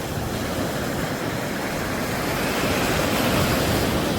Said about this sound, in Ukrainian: Просто слухайте шум моря.